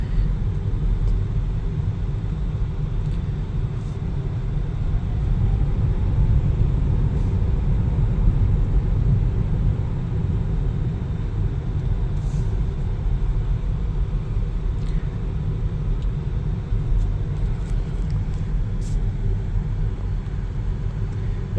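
Steady low road rumble and tire noise fill the cabin of a 2024 Hyundai IONIQ 6 while it drives, an even, continuous drone with no talk.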